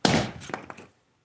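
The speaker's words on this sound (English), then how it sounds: "I'm using an axe to cut wood" An axe chops wood in the Minecraft video game, a single sharp thunk followed by a short crackling, splintering tail that fades within a second, close and alone.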